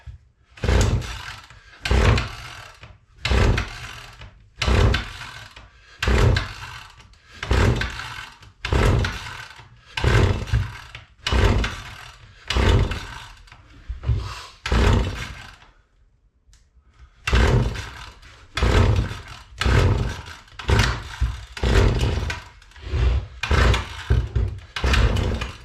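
A cold gas string trimmer on choke is pulled over and over, making a long run of loud, rhythmic recoil-starter yanks with brief sputters, a short pause midway, and no steady running.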